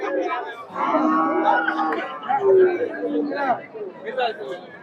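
Cattle low repeatedly at a crowded Bangladeshi cow market at Hazratpur, with long, loud moos standing out over continuous chatter and voices of the crowd nearby.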